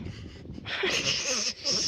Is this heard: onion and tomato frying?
no